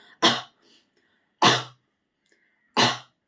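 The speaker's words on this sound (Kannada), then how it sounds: "ಹತ್ತು ಬಾರಿ ನೀವು ಫೋರ್ಸ್ ಆಗಿ ಕೆಮ್ಮಬೇಕಾಗತ್ತೆ ನೋಡಿ ಹೀಗೆ" Three loud, forceful coughs spaced evenly about a second apart, each short and harsh, with quiet pauses between them and no speech.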